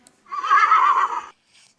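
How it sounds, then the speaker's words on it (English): Horse neighing once in a loud, close whinny lasting about a second, then a faint trailing snort. "Horse."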